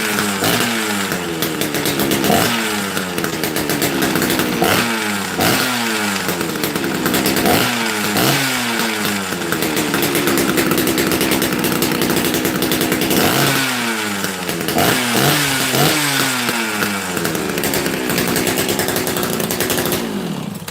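A small carbureted engine fires up and runs loud and close, revving up and dropping back repeatedly in sharp bursts over a continuous rattling drone.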